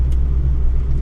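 A Laser hill climb car's engine drones steadily while driving, a loud, low rumbling hum with constant steady tone and no talk over it.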